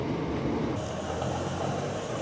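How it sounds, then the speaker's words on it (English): A train pulls away from Esher station on the London and Southampton line, a steady low rumble and rolling hum from inside the carriage, even and sustained without voices. "So the train departs Esher."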